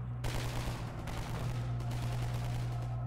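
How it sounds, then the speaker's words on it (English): Sustained gunfire from the Half-Life 2 video game, with dense overlapping shots and a steady low hum. The sound is loud and continuous and carries on for the whole span. "They're shooting her!"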